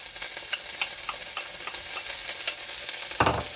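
Vegetables and corn browning in a pan while being stirred, a soft steady sizzle with light scraping and clicks of the utensil.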